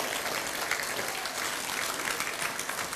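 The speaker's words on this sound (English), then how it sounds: "Please, ladies and gentlemen, a big round of applause." An audience applauds at the closing of Fiji Fashion Week 2017, a dense, even wash of many hands clapping at a distance, steady throughout with only faint traces of voices.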